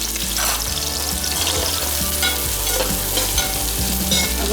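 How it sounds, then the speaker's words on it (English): Chopped onions and green chilies shallow-frying in a pan for tomato rice give a loud, continuous close-up sizzle, steady throughout, with stirring and scraping mixed in and no voices. "Just shallow fry the onions."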